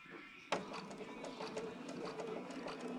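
Sewing machine stitching small log cabin quilt pieces, starting abruptly with a click and running as a steady close mechanical whir with rapid needle ticks, alone and fairly quiet.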